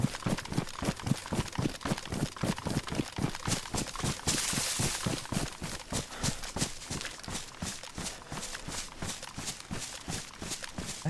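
Steady, rapid footsteps in the survival game DayZ on the Chernarus map, running close and evenly paced throughout with no pause, loud and dominant over a light background.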